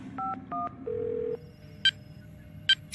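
A cartoon character dials a phone to call the school board, with a quick series of clear electronic keypad tones, one longer tone, then sparse beeps. No speech is heard.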